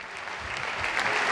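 A comedy roast audience bursts into applause, a brief, dense burst of many hands clapping that swells slightly toward the end.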